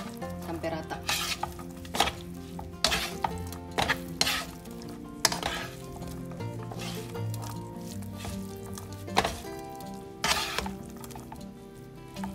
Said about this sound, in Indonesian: Ini tadi tuna yang kita sisihkan, kita campur dengan spagettinya. Lalu kita aduk-aduk sampai rata.